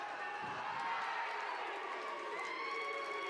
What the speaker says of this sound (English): Crowd is getting in this match a little bit